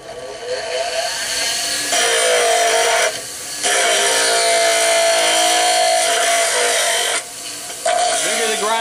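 A bench grinder grinds steel for a hunting knife blade with a loud, harsh, steady whine. It cuts out briefly a couple of times and then resumes.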